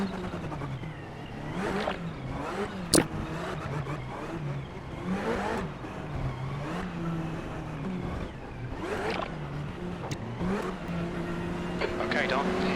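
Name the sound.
Ferrari 488 race car engine accelerating in iRacing video game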